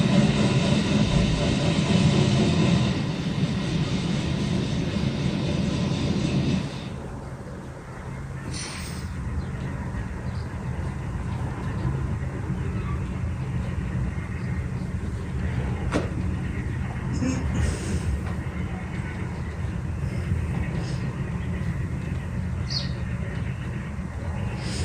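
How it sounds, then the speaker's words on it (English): A long solid freight train of refrigerator cars rushes past at speed, a steady loud rumble and rolling clatter with a louder burst at first that settles into a sustained drone. "A solid train of refrigerator cars speeds"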